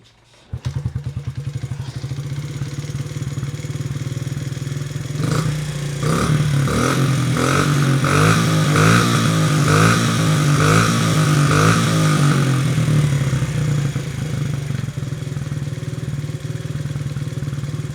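A Honda CRF 50 motorcycle starts cold and idles close by, its small engine chugging in a steady putter that briefly revs and clatters before settling back to idle.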